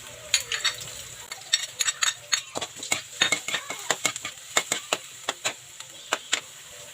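Garlic sautéing in a pan for pork caldereta with a soft sizzle, punctuated by repeated sharp scrapes and clinks of a utensil stirring against the pan.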